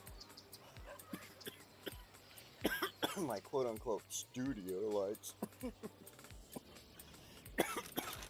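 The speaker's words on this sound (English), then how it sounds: "Sorry, I don't mean to cough in your ear." A single cough breaks through a stretch of quiet talking close to the mic, surrounded by small clicks and handling noises.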